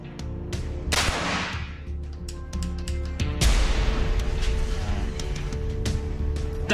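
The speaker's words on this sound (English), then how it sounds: "The whole point of this project is to be able to shoot 3 bullets out of 3 guns sequentially." Three guns rigged to fire bullets one after another in sequence at an outdoor test: loud, close sharp reports break out in separate bursts, each trailing a dense noisy roar, with no voices heard.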